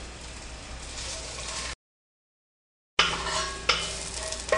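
Mushrooms sizzle in oil in a hot pan while a utensil stirs them, making a continuous frying hiss with scraping strokes. The sound cuts out briefly in the middle, then resumes louder with a sharp knock.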